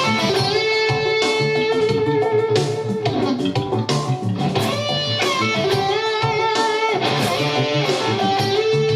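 An electric guitar plays a minor pentatonic lick with bends and pull-offs, its sustained, bending notes clear and upfront across a continuous phrase of about nine seconds, with no talking.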